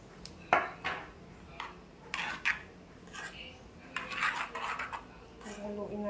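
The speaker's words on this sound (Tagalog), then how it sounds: "Itong glutinous natin, tsaka itong chili flakes natin. Paghaluin natin." Glutinous rice paste is mixed with chili flakes for kimchi in a bowl, giving faint scraping and clinking of a utensil in uneven strokes. A quiet voice talks between the strokes.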